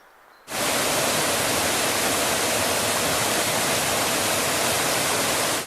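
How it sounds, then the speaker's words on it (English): A loud, steady rush of a river's fast water tumbling over granite rocks in Cornwall's Luxulyan Valley, a dense continuous roar that starts abruptly and fills the whole clip with no voices. "the sound of that, well, it's quite a powerful little river really, tumbling over all the granite rocks"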